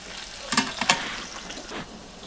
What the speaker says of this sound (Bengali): আলুটা ভালো করে ভেজে নিতে হবে ফ্রেন্ডস, লাল লাল করে।